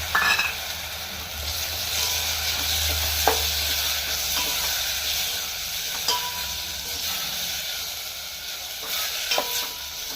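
Soaked fenugreek seeds and green chillies sizzle in hot oil in a pan, a steady frying hiss broken by occasional scrapes and clinks of stirring, heard close with no talking.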